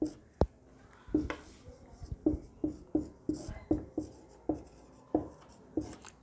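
Chalk or marker writing on a board during a Hindi grammar lesson, with a steady run of sharp taps and short strokes repeating every half second or so, close and fairly loud, with no talking.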